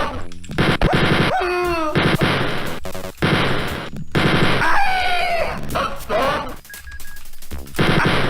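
A chain gun in Wolfenstein 3D rattles off in loud rapid bursts at guards, broken by short gaps, with game sounds such as yelps and pickup chimes mixed between the volleys.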